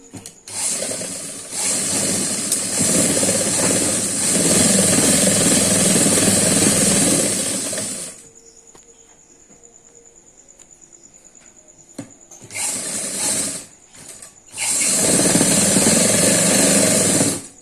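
A sewing machine stitches a kurti jacket in loud, fast mechanical bursts of rapid needle chatter, stopping for a few seconds of near quiet with a faint hum before running again in shorter and then longer stretches.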